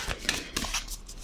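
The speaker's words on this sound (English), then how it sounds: "I'm just gonna shuffle this deck as well to get an advice." A deck of tarot cards being shuffled, giving quick papery riffling bursts in a brisk rhythm, close and alone over about a second.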